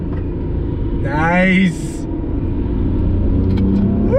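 A Nissan R32 Skyline GTR NISMO engine pulls hard on throttle in third gear, a loud, steady in-car roar with a rising whine. Someone speaks briefly over it.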